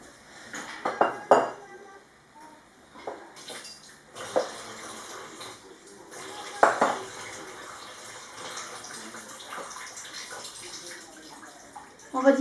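A splash of water, about two tablespoons, is poured down the sides of a swordfish and pepper tagine in brief trickles, mixed with clinks of cookware and utensils and a few quiet stretches.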